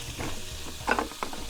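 Food sizzles in a pan with a steady crackling hiss, close up, broken by a couple of brief louder spatters or stirs.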